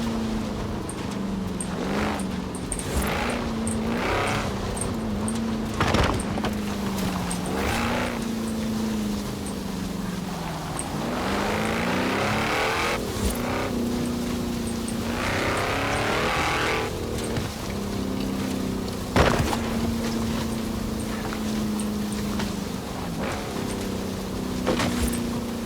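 Engine of a car driven in the racing video game Forza Horizon 4, a steady loud roar with pitch rising and falling through gear shifts and turns, plus brief sharp bumps, running continuously with no talk.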